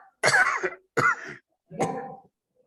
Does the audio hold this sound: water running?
no